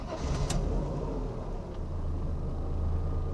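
A Mercedes 300CE cranks and catches, a brief whine and clatter at the start, then settles into a close, steady low engine rumble at idle, heard from inside the car with no talking.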